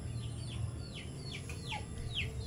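Chickens at a mountain home, a few sharp high calls and clucks repeating at intervals, fairly faint and set against low background rumble.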